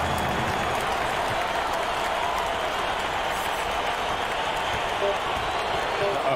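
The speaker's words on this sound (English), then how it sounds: "So the home crowd happy here as they get the victory." A home crowd at a basketball game cheering and applauding a victory, filling an arena with a dense, steady roar of clapping and voices for several seconds.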